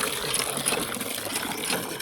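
Water gushes steadily from a hand pump in the Cholistan desert, a close, hissing splashing stream that runs without a break for about two seconds.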